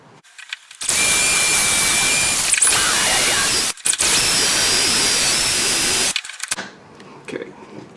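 A power drill bores a hole through a flats skiff's boat transom, guided by a block to keep the bit perpendicular; a loud, steady whine runs for about five seconds with one brief pause, then stops and winds down.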